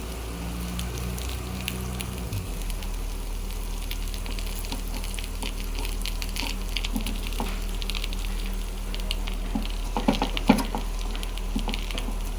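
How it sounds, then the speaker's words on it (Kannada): Paddu batter with a little oil sizzles steadily in a paddu pan, a low continuous frying crackle close by with scattered pops, no voices over it. "ಪಡ್ಡನ ಹಂಚಲ್ಲಿ ಹಾಕ್ಕೊಂಡು ಮೇಲೆ ಸ್ವಲ್ಪ ಎಣ್ಣೆ ಹಾಕ್ಕೋಬೇಕು"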